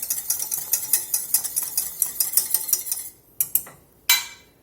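A utensil stirs spices into a pot of cooking nacho food, rapid rhythmic scraping clinks against the pot for about three seconds, then a couple of isolated knocks, close and fairly loud with no talking.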